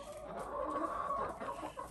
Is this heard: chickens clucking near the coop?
yes